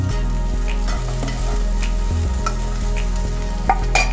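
Paneer sizzling and being stirred in a pan of spiced tempering, a steady loud frying hiss with scraping and clinks from a spoon against the pan.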